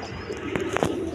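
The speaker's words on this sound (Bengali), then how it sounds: "দেখেন খুব সুন্দর কবুতর" A pigeon coos softly in a short, quiet call with a few faint clicks nearby and no voices.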